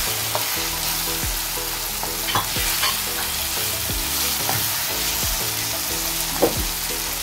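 Ground pork and clams fry in a pan, giving a steady, close sizzle with scattered scraping and stirring clicks throughout and no talking.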